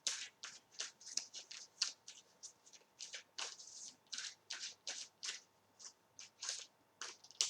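Tarot cards are shuffled by hand in a quiet room, producing a rapid, close run of crisp riffling and slapping bursts that repeats steadily throughout, with no talking.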